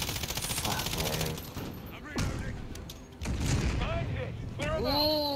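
Modern Warfare gunfire rattles in rapid bursts and single cracks, loud and close, with gaps between volleys and game sound effects mixed in while voices talk over the action.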